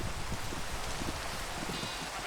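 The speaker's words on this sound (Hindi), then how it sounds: "अब थंडर स्टॉर्म की बारिश है" Thunderstorm rain in Minecraft falls as a steady, even hiss that stays at a constant low level throughout, with no distinct drops or thunder claps standing out.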